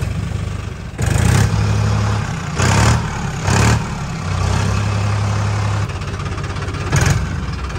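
Tractor engine running on a farm as it is moved into place, a steady mid-pitched rumble that swells into louder revving bursts several times, heard close with no talk.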